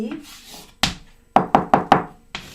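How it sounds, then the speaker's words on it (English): Four quick, sharp knocks on a wooden door in a storytelling setting, close and loud, with a single thud just before them and talking around them. "knocked on the door."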